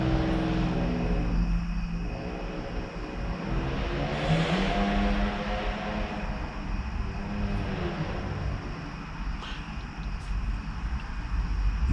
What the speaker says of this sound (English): That car sounded like shit.